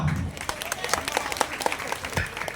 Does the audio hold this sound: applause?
yes